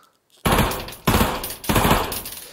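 Loud, close automatic gunfire from a gun in the Pavlov VR video game comes as three sustained bursts, each separated by a short gap, after a quiet start.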